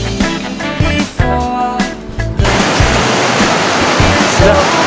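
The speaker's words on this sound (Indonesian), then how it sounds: "Berada di air terjun" A loud, steady rush of a waterfall takes over midway, a constant roaring wash after a few seconds of voices and movement, on Mount Guntur.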